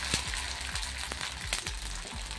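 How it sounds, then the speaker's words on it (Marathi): Sabudana papad fries in hot oil in a kadhai, a soft steady sizzle with repeated bubbling crackles and small pops close by, no voices over it. "पापड मी ह्या तेलात तळणार आहे"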